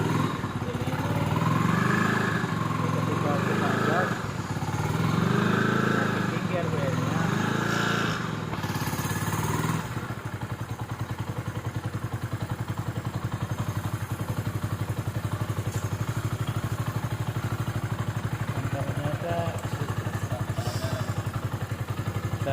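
A Yamaha Scorpio motorcycle engine fitted with a radiator cooler runs loud and close, rising in pulses early on and then holding a steady rough drone, with someone talking over it.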